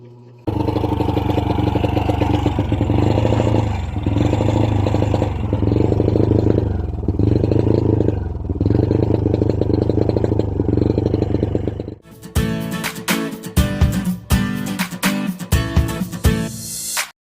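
A carbureted Honda Wave 100 motorcycle that is hard to start and misfiring runs with a loud, close, pulsing idle for about twelve seconds, then gives way to uneven clattering, mechanical revs and knocks.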